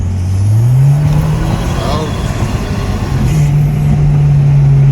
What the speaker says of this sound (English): we're gonna just kind of press the gas a little bit and see if we got some more torque